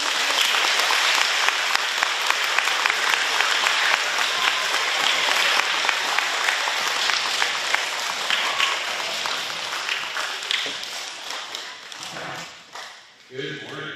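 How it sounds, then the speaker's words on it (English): An elementary school audience gives a sustained, loud round of applause to welcome a visiting astronaut, dense clapping filling the room before thinning out toward the end. "I'd love for us to give him a round of applause to welcome him and also thank him for his time"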